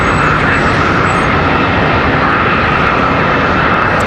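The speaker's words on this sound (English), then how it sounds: "737-800 AirCal Retro livery. Coming across the field at us." An American Airlines Boeing 737-800 in AirCal retro livery crosses the Charlotte Douglas airfield close by, its jet roar loud, dense and unbroken for the whole stretch, with no voices.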